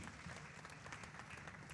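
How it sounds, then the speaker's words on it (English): An audience at the 5th Millennium Excellence Awards 2020 ceremony applauds, producing a faint, steady, continuous patter of many hands clapping. "Please, a round of applause for her."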